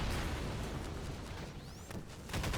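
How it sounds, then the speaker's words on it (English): A deep explosion in Half-Life 2 booms and rumbles loudly through the whole moment, with crackling debris and a faint whistling sweep near the end. "That explosion sounded expensive."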